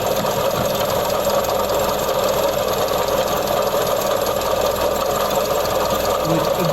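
A Mazda CX-30 engine with a failing water pump runs steadily near the microphone, giving a continuous mechanical hum with a faint ticking, knocking rattle that holds constant and unbroken throughout.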